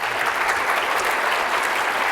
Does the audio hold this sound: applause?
yes